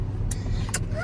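Steady low rumble of a borrowed car driving along, heard from inside the cabin, with brief soft voice sounds over the constant road and engine drone.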